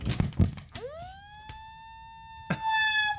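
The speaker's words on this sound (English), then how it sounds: "Because it has a siren button." A rare rotating guitar pedal, built as a fuzz pedal with a siren button, lets out a rising electronic siren wail that holds steady and then bursts again after a few clicks and knocks.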